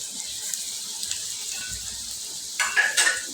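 Carrots and green chillies are stirred in a hot frying pan for chowmein: a steady close sizzle runs throughout, and a burst of spatula scraping and clatter comes near the end. No one speaks.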